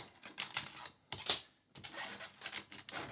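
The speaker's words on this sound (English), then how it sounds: "Cut the strings" Strings on a Floyd Rose guitar are cut, giving a few sharp close snips and clicks and one bright metallic snap near the middle, set apart by short quiet gaps.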